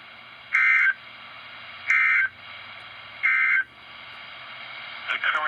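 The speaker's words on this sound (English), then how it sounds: "This has been a test of the NOAA radio warning alarm device." Three loud, steady two-tone NOAA weather radio alarm blasts, evenly spaced about a second apart, over a low background hum, followed by a brief burst of garbled noise.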